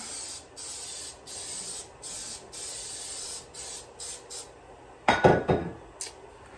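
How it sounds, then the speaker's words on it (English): Cooking spray hisses onto a bundt pan in a kitchen in a series of short bursts, about ten in all, each close and crisp. A louder clatter of the pan being set down follows near the end. "I'm going to spray the bundt pan"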